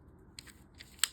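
An awl punctures a paper sewing pattern to mark dart ends on a bodice, giving a few short, sharp, close crisp pokes, the last one loudest, over quiet room tone.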